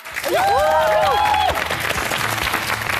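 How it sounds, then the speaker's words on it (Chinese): Loud studio audience applause greets the deputy director of Shanghai Media Group walking onto a television stage during a job-interview show, a dense sustained clapping with a brief whistle-like squeal near the start and faint voices beneath. "接下来，让我们掌声邀请上海广播电视台副台长吴倩入场"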